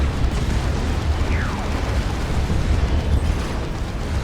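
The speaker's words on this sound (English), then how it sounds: "With a rocket run." Rocket run explosions in a Warhammer 40,000: Dawn of War 2 battle between Imperial Guard and Orks, heard as a steady, dense low rumble with no break over the whole stretch and no talk.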